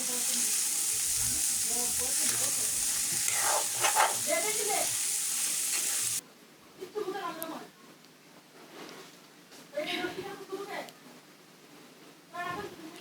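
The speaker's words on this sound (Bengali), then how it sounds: "দেখেন আমি কিভাবে সুন্দরভাবে একটু হালকা করে ভেজে নিচ্ছি।" Soaked chickpeas frying and being stirred in a pan, a steady loud sizzle for the first half that drops to a quieter crackle with intermittent scraping stir strokes, while a voice talks throughout.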